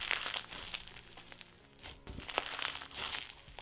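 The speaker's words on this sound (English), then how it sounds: "My favorite thing to do with flumes is just fluff them up a lot and then listen to them crunch." Fluffed crunchy flume cloud slime being squeezed and crunched up close, giving soft, quiet crackling and crinkling pops in an irregular rhythm.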